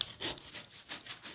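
Rapid back-and-forth saw strokes grinding through a giant homemade Kinder Bueno chocolate bar with peanuts, hard and dense, about five quick rhythmic passes, close up and fairly loud with no talking.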